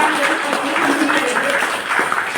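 A crowd claps together in a dense, continuous burst of applause, loud and sustained throughout with no pauses.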